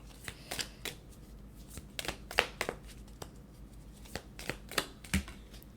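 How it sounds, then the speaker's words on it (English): Tea Leaf Oracle cards shuffled close up, irregular crisp snaps and papery riffles in short bursts with soft handling noise between, no speech. "Let's grab some Tea Leaf Oracle cards."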